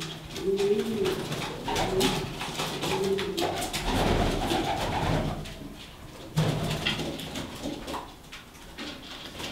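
Pigeons coo in a loft, a German Van der Bulk breed, with soft repeated low coos in the first seconds, then busier mixed bird noise and rustling nearby, with faint voices in the background.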